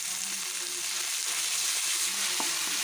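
Ginger garlic paste with curry leaves, coriander and mint frying in a pan for egg fried rice, a steady close hiss of sizzling oil with a couple of brief scrapes as it is stirred.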